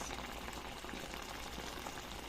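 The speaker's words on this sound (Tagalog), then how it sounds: "Kulok na ang aking adobong paksiw." Adobong paksiw na isda, a Filipino fish stew, bubbling in a pot, a faint continuous boiling burble heard close with no voices.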